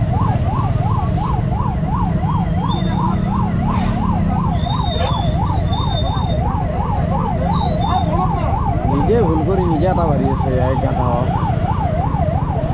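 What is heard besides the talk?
private medical vehicle siren, ambulance-like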